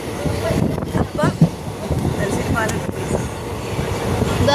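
Passenger train running on rails near Thalassery, heard from onboard as a loud, steady rumble with rhythmic clanks and brief metallic squeals, voices faint in the background.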